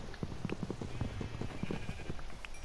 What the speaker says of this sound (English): Oh, the sheep right here.